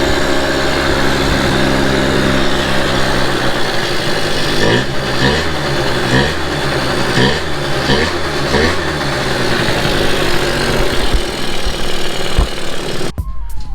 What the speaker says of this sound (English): that was the first start on this unknown motor